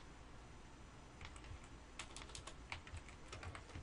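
Someone types on a computer keyboard while writing HTML in Dreamweaver CS5, a short burst of quiet, close key clicks in an irregular rhythm with no talk.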